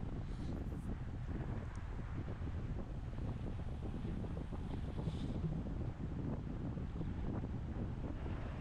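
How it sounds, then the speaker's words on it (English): Wind noise during a senior men's category 4 cycling road race stage with a headwind from the left, a constant heavy rumbling buffet on the microphone throughout with no clear breaks. "the wind is kind of a headwind coming from the slight left now"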